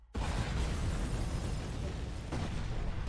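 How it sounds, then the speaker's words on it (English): Explosion in the animated Batman film Under the Red Hood: a sudden loud, dense blast that sets in abruptly and holds as a sustained roaring rumble with a second surge near the end. "Batman survived an explosion."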